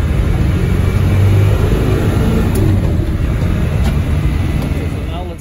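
A 1990 or 1996 Land Rover Defender 110 with a Tdi diesel engine idles with a low, steady rumble, fairly loud and close, easing slightly toward the end.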